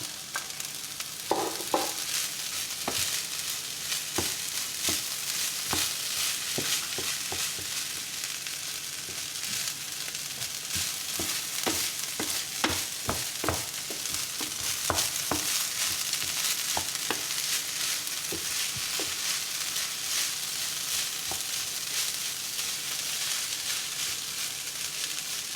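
Cantonese fried rice with peas sizzles in a pan, a continuous close hiss broken by frequent scraping and clattering stirring strokes, with no voices.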